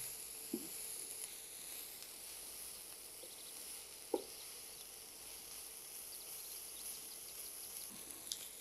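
Mustard greens frying in a pan make a faint, steady hiss with a few soft ticks and pops, quiet and continuous with no voices.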